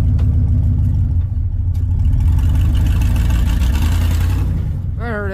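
A truck engine running in four-wheel drive rumbles steadily nearby, a deep continuous drone that ends with a brief rising whine.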